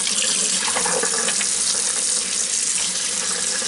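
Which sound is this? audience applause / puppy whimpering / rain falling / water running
water running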